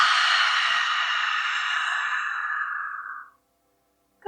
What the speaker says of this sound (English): Exhale out loud the mouth.